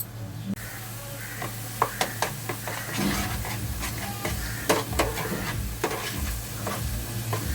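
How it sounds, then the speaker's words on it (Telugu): Masala sizzling in a pan for corn cob curry, a dense steady fry with frequent sharp stirring clacks and scrapes of a spoon against the metal, close and loud, no talking. "మసాలా వేగుతుంది."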